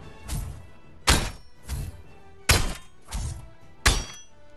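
Five heavy, sharp pickaxe strikes from Fortnite land at a steady, unhurried pace, each a crunchy thunk with a brief ringing tail, loud and close with no talking.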